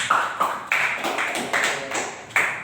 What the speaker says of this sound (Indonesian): beri aplaus dulu dong yang hadir kepada Rupali Yusri.